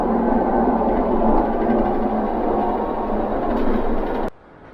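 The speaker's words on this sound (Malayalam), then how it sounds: "എഞ്ചിന്റെ സൗണ്ട് ഒക്കെ നല്ല" A new BharatBenz 1017 BS6 35-seater bus drives along with its engine running, making a steady, loud, droning rumble that cuts off abruptly near the end.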